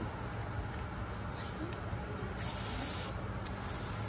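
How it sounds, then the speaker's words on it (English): Short hissing bursts of silicone aerosol spray, close by, over a steady rumbling background with some voices, during work on a supercharged 2021 Ford F-150. "Spray some silicone on it."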